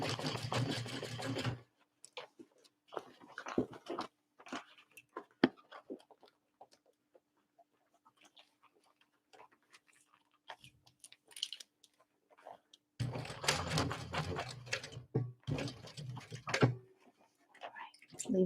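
A sewing machine back stitching the corners of a tote bag, with a steady whirring run at the start, scattered clicks and handling noises, then a second longer stitching burst, close and fairly loud.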